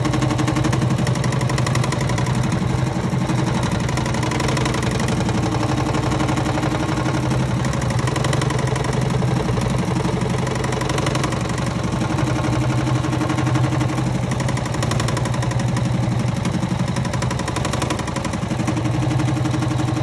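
An embroidery machine stitches divider pockets on a Hoop 2 bag, a steady, loud mechanical hum and rapid needle chatter running continuously without pause.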